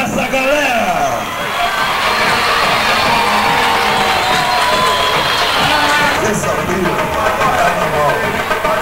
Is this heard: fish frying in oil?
no